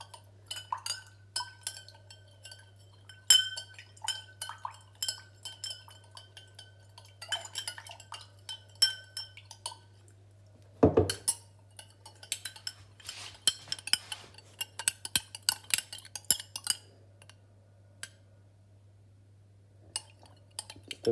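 A metal spoon stirs sugar into water in a glass, clinking and scraping against the sides in irregular bursts over a steady low hum, close up, with no voices.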